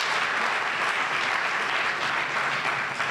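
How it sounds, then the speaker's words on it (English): Steady, dense applause from a crowd at a youth graduation ceremony, continuous and even throughout without any speech over it. "So how about a big round of applause for the Convention Center?"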